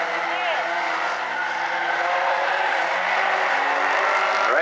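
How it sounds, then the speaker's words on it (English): Stinger 8 race cars racing on the South Sound Speedway oval produce a continuous, roaring engine drone of several cars passing close together, with race commentary likely mixed in. "now they come through the X, and Lemaire is by Florick"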